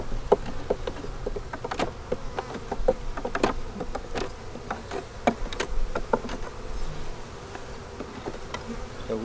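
Honey bees buzz close around an opened hive box, a steady hum with individual bees droning past, mixed with sharp knocks and taps from handling the wooden box and frames.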